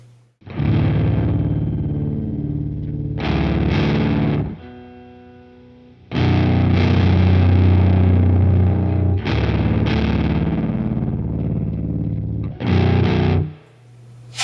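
Heavily overdriven baritone guitar with flatwound strings through a Subspace drive pedal, Pitchfork Plus also engaged, plays thick, sustained chords in three long bursts with short gaps, loud, gritty and noisy, with no voices.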